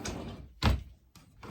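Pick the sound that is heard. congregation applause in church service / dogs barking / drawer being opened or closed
drawer being opened or closed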